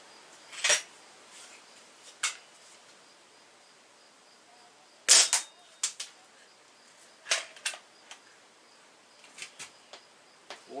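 A Stoeger X3 Tac air rifle firing 7.4 grain Crosman Pointed Premier pellets gives a few sharp, faint snapping shots spaced several seconds apart. Smaller clicks fall between the shots, with no talking.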